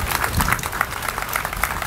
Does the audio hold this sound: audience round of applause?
yes